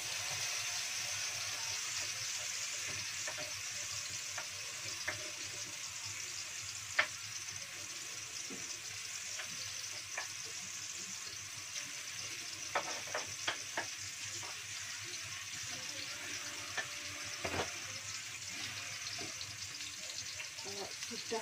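Ground spice paste for oxtail soup hits a pan and fries, giving a soft continuous sizzle with scattered pops and clinks of stirring, fairly quiet and steady throughout.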